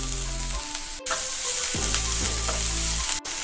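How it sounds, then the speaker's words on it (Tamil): Onion sizzling in hot oil with ginger and garlic in a pan, a loud, steady fry that holds throughout, with a couple of brief stirring breaks. "இஞ்சி பூண்டு வதங்கினதும் ஒரு வெங்காயத்தை சேர்த்துடலாம்"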